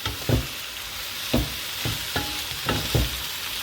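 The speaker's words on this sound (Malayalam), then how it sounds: "എന്നാലും നമ്മളൊന്ന് എണ്ണ ഒഴിച്ചു കൊടുത്ത് സവോളയ്ക്കൊന്ന് ഇളക്കിയിടുവാണ്." Onions frying in oil in a non-stick pan sizzle steadily while a spatula stirs them, giving about six distinct scraping strokes at an uneven rhythm, close and clear with no talking.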